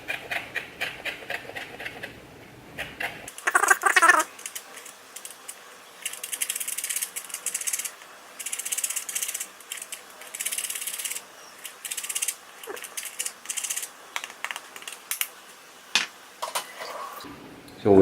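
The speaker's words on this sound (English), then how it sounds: "We'll basically take some of the peel, grate some of the zest into the batter." Orange or grapefruit peel is grated for crepe Suzette batter, producing repeated close, crisp scraping strokes in irregular bursts across most of the stretch, with no talking.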